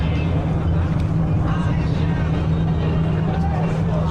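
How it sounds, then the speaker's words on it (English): A Dodge Ram truck's V8 engine running at a car event, a deep steady rumble droning throughout under crowd chatter and voices. "someone's just started up that Dodge Ram truck"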